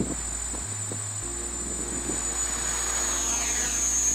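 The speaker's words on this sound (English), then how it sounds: "We'll go up to about half throttle and it'll take off on its own." A small GPS quadcopter from a STEM kit spins up at about half throttle and lifts off, a steady close whirring of propellers with a high electronic whine that builds slightly as it rises.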